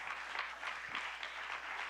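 Church congregation clapping together, a sustained, fairly faint wash of applause from a crowd that holds steady across the moment without talk over it.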